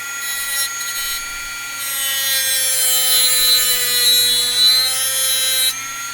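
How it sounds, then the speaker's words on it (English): A flap disc sands metal with a high, whining rotary drone that stays steady for several seconds, dips briefly near the start and cuts off near the end. "I like using flap discs for that kind of work."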